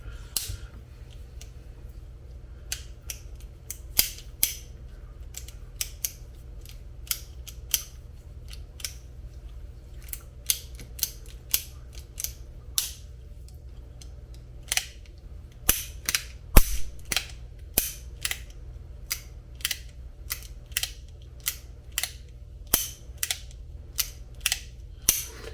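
A Ruger Wrangler .22 revolver's mechanism gives many sharp metallic clicks, irregularly spaced and close, over a steady low hum.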